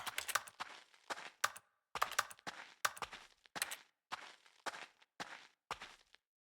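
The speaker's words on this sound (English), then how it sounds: "when I'm interacting with the interaction button, I still hear like it would type on a keyboard" Keyboard typing plays on each press of the interaction button in The Stanley Parable: Ultra Deluxe, heard as short clustered bursts of clicks, about ten separate bursts, crisp and alone against silence.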